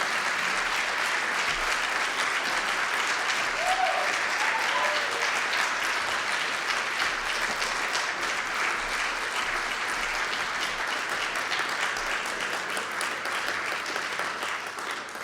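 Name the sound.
audience applause for speaker at conference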